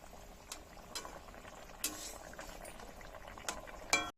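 Soybean curry bubbles quietly in a pot, a soft continuous simmer broken by a few sharp clinks of a utensil against the metal.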